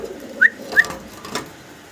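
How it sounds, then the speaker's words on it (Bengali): A single male Moorhead Archangel pigeon gives a couple of short, close calls over a soft low murmur, with a fainter coo trailing off near the end. "সিঙ্গেল এক পিস কবুতর দেখাচ্ছি।"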